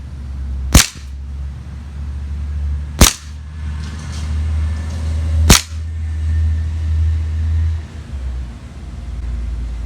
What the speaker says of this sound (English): I'm shooting probably about 1 inch above the bullseye to hit it